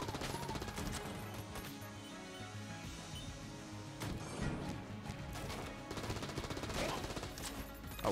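The Clob gun fires in Enter the Gungeon as a dense series of loud crashing shots and impacts over busy game sounds, with no speech.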